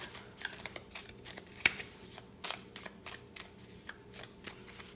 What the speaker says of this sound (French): on va prendre nos cartes et on va les mélanger